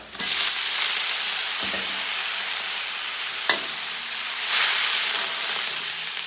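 Boiled beef intestines for adobong isaw hit a hot pan with garlic and sizzle hard, a loud, steady frying hiss with a few stirring clanks and surges, no voices.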